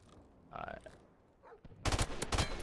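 Gunfire in Call of Duty: Modern Warfare Remastered during a doubles match, a sudden loud burst of close automatic shots near the end after quieter game sounds and a short grunt-like noise.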